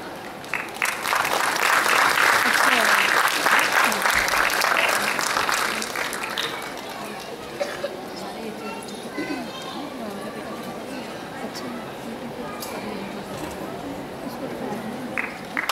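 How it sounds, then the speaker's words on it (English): Brisk applause from an audience at a school recognition day ceremony honours the chief guest, loud at first and then fading into crowd chatter and children's voices for the rest of the stretch. "may I request you to applaud for our chief guest once again"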